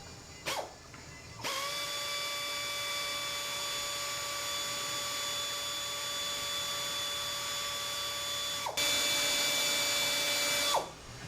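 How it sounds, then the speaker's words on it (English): An air ratchet loosens the valve cover bolts on a 2.4 liter Chrysler PT Cruiser, a steady high pneumatic whine that runs for several seconds, stops briefly, then starts again, close and fairly loud. "Didn't have enough room for the impact driver, so I'm using an air ratchet on this one, and the one off to the right."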